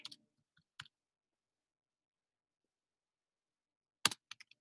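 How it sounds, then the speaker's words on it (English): Computer keyboard typing during a virtual reality demonstration: a few brief clicks at the start, a long silence, then a quick burst of keystrokes near the end, close and faint, with no talking. "So first I type Tour Builder."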